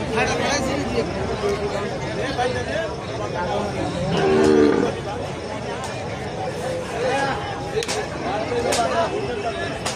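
Cow offered for sale at a busy cattle market lows once in the middle, partly buried under steady crowd babble and nearby talking.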